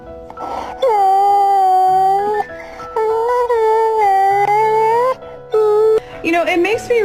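A dog howls and whimpers in long, loud, wavering tones, several sustained wails broken by short gaps and ending in higher, shakier whines.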